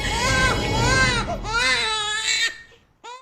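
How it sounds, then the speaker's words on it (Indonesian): Two babies crying at once, loud wailing sobs rising and falling in close overlapping bursts, then trailing into whimpers before a final short cry. "ia mendengar tangisan 2 bayi"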